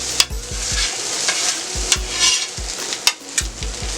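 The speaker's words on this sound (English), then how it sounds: "Flip that over, let it cook for a little bit longer." Jambalaya sizzles on a Steelmadeusa griddle as it is flipped and scraped, with a steady fry hiss broken by several sharp metallic spatula clacks and scrapes, close and loud, no talking.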